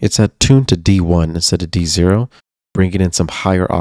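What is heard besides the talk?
No distinct noise like a dog, phone or traffic.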